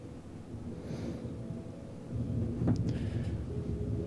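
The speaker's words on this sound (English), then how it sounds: "The storm continues all around you." A continuous low rumbling thunderstorm backdrop for a fantasy tabletop roleplaying game at sea, with a steady storm roar that swells louder midway and a brief rolling thunder crack, with no voices over it.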